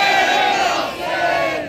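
A large crowd at a Muharram Ashura procession in Bhopal chants Labbaik ya Hussain, a steady mass of raised voices sounding together in one brief, continuous burst.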